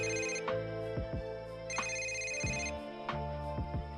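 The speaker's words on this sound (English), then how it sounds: "Suddenly, Tim's cell phone rings." A cell phone plays a melodic electronic ringtone, a steady loud repeating tune of tones cycling through several phrases, heard alone without any voices.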